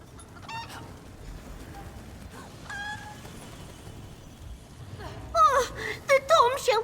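A chicken in The Elder Scrolls Online clucks and squawks up close, a few scattered calls early, then a louder flurry of agitated clucks toward the end, with talking in the background.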